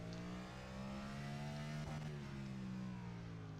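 A NASCAR race car engine in the iRacing video game drones steadily in first gear, a sustained buzzing whine that rises slightly and holds, quiet and alone without talk.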